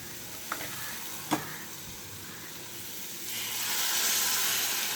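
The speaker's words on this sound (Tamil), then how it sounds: "லைட்டாக சாட்டை பண்ணுங்க." Green plantain and ground paste sauté in a pan with a steady hiss, punctuated by a couple of sharp clinks of stirring, the sizzle swelling louder toward the end.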